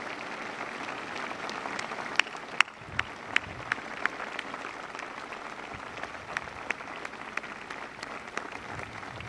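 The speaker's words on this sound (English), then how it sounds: "Give yourselves a round of applause." A crowd of service members aboard the aircraft carrier USS Ronald Reagan applauds steadily, a dense patter of clapping with a few sharp individual claps standing out, moderately loud and unbroken for the whole stretch.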